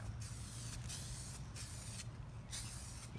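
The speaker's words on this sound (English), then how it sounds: "Just laying down a couple of light coats. This is the Sapphire Blue Pearl from Traxxas." Aerosol spray paint, Traxxas Sapphire Blue Pearl, hissing onto a clear RC car body in a few short passes, each close, steady burst broken by brief gaps.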